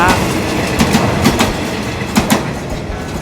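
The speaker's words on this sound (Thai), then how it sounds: "ทำขบวนโดยอันซอม 4301 นะครับ รุ่น ALD นะครับคันนี้นะครับ" An Alsthom ALD locomotive, number 4301, hauls a freight train past at close range, making a loud continuous rumble with repeated clickety-clack beats from the wheels.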